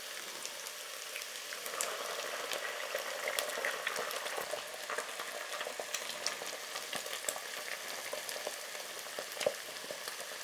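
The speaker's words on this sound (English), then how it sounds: "I make space in the middle and crack one egg" An egg fries in a pan of fried rice, giving a steady, fine crackling sizzle with scattered pops throughout, fairly faint and heard alone without talk.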